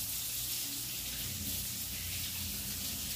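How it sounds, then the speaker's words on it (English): Running tap water pours steadily while hands are washed, a soft continuous hiss with no other sounds. "Let me wash my hands."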